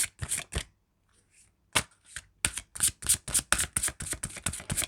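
Romance Angel oracle cards being shuffled by hand, a quick run of crisp riffling flicks that pauses briefly, then resumes as a dense, steady flutter of snapping card edges, close and clear with no talking.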